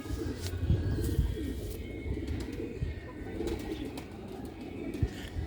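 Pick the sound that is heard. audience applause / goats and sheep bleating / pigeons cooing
pigeons cooing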